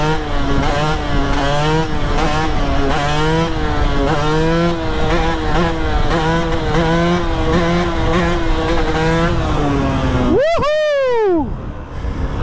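Motorcycle engine droning steadily with rising and falling revs as the bike is ridden, loud and close throughout, then a sharp high-revving sweep near the end before the sound cuts away.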